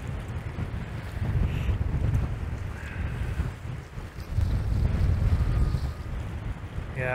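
Wind buffets the microphone in steady low rumbling gusts aboard the lake freighter Wilfred Sykes, with waves and water rushing past the hull in the background; no voices are heard.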